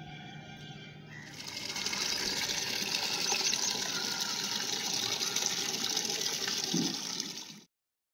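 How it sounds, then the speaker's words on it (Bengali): Water runs from a tap to water garden plants, starting after a quiet moment and gushing steadily for several seconds before stopping abruptly, with no talking. "গাছগুলোতে একটু জল দিব"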